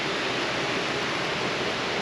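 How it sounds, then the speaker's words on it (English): A waterfall tumbling over boulders on a hike to hidden pools, a dense, steady, full-bodied rush of water close by, continuous and unbroken with no voices. "Another bouldering waterfall."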